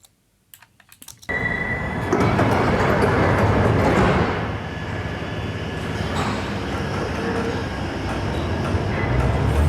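After a few clicks, a train starts up from a station with a loud rumble and a rising mechanical whine. Clanks and rattling keep going as it pulls away.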